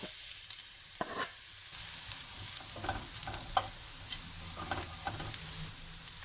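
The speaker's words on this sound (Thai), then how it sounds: "น้ำมันพืชนะคะ กระเทียมสับ" Steady sizzling of chopped garlic frying in hot vegetable oil, with occasional scrapes and knocks of a utensil stirring in the pan.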